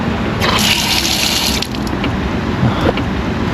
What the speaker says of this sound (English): These like little Gagauzian water fountains.